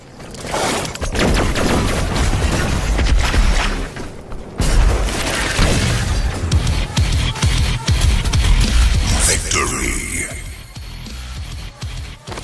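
Dense, continuous barrage of video game booms and rapid gunfire with clattering mechanical noise, loud throughout, easing into a thinner, brighter rumble near the end.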